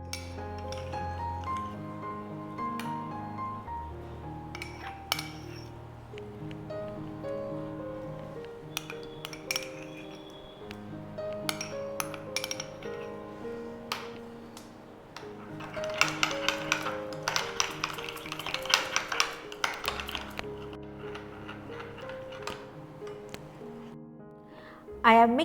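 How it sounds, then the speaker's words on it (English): A spoon clinks and taps against a bowl while mixing mayonnaise with red chili sauce, giving repeated light metallic chinks over quiet background music, with a denser burst of clinking near the end. "To a bowl, let's add mayonnaise and red chili sauce, mix them together and keep aside."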